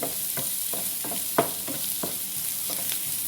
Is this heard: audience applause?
no